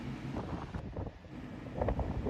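Wind buffets the microphone along the rugged limestone 12 Apostles coastline, a steady blustery rumble with gusty swells throughout and no talking.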